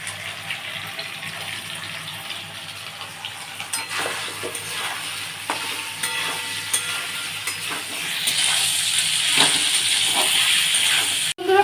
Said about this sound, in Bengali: কপি আলুটা ফোড়ন দিয়ে ভাজা হয়ে গেছে